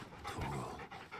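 Rapid, breathy dog panting from the video game Final Fantasy XVI, steady and close, heard alone without speech.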